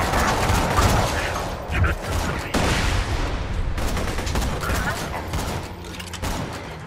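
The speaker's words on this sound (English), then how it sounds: "You know, I haven't used my sniper rifle in a while." Gunfire from the video game Borderlands 2, including a sniper rifle, rings out as a series of sharp, close shots mixed with other weapon fire and booms, with voices talking over parts of it.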